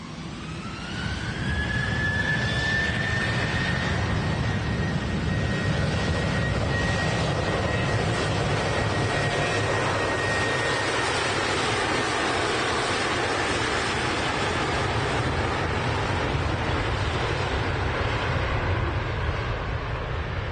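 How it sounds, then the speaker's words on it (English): A Jet2 Boeing 737 airliner takes off from Manchester Airport, bound for Fuerteventura, its jet engines building into a steady loud roar with a rising whine that holds for about twenty seconds. "Jet2 737 off to Fuerteventura."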